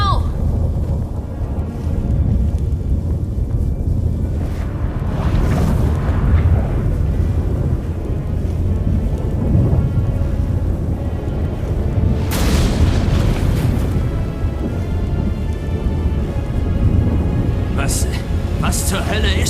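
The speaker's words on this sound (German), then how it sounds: "Was? Ein Unwetter?" Thunderstorm in The Witcher 3 video game: continuous deep rumbling with booming swells and wind-like roar, loud and sustained throughout, with bursts of sharper crackling.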